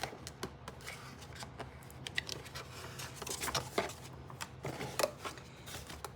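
Paper instruction sheets from a crochet kit being handled and shuffled, with soft crinkles and quick rustling taps scattered close by throughout, quiet and without talk.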